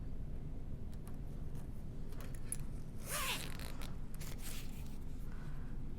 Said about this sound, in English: I'm gonna attach that zipper pull.